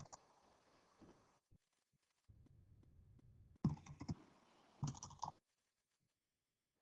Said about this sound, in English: Let me just type that in.